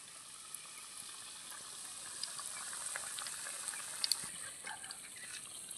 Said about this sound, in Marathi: आपल्याला तेल तापल्यानंतरच सोडायचे आहेत तर मीडियम तेल तापून घ्यायचं आहे आणि त्यानंतर मग त्यामध्ये सोडायचे आहेत